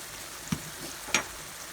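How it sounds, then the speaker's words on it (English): A pound of meat cooking in a pan gives a faint, steady sizzle, with two brief stirring clinks. "I have a pound of meat cooking"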